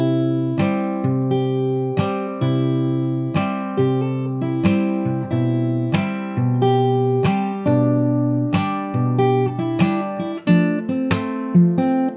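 Fingerstyle acoustic guitar plays the looping riff of a song from the start, with steady plucked notes and chords in a relaxed rhythm, close and clear with no voices.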